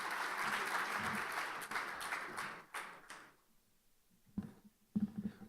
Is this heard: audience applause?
yes